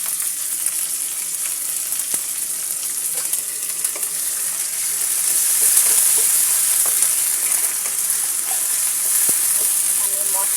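Onion browned in oil sizzles steadily in a pan with ginger garlic paste for beef khichuri, a constant close hiss with occasional stirring scrapes, growing slightly louder midway.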